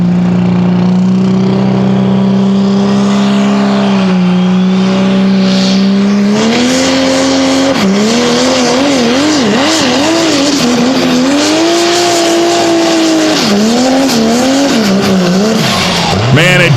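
A Pro Stock diesel pulling truck named Funkin' Groovin' roars under heavy load, its loud steady engine drone rising and wavering through throttle changes and hops as it pulls down a competition track, with faint crowd and announcer noise underneath.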